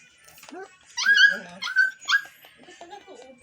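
A dog whimpers and cries in high, wavering whines, with short yelps between them, close by.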